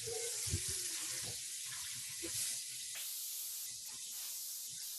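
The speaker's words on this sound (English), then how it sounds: "soak this in some really hot water right away so it's easier to wash later" Hot water runs steadily from a kitchen tap into a sourdough mixing bowl, a continuous close hiss and splash with faint clinks, no talking.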